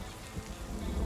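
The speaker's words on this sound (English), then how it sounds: "And it started to rain." Steady rain falls in the survival video game Sons of the Forest, a dense, even hiss of drops with low rumbling underneath, filling the short moment alone.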